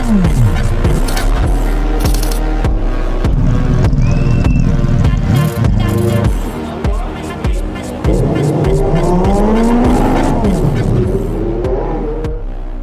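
Mazda 767B four-rotor race car at the Adelaide Motorsport Festival, a loud high-pitched rotary engine screaming and revving up and down continuously as it races past, with tire squeal and crowd noise around it.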